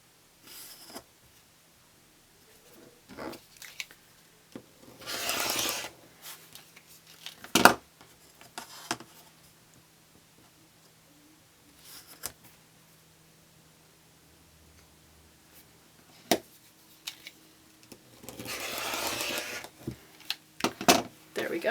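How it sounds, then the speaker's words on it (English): Fabric strips for a mini quilt being cut, with a few broadband swishing bursts of the cut and quiet handling rustles and taps between them, close and fairly soft. "I'm just going to cut 3 1-inch by width of fabric strips."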